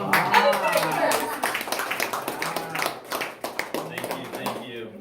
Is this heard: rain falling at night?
no